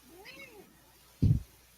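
A cat gives a single short, rising-then-falling meow near the start, followed by a brief burst of a human voice, quiet room tone in between.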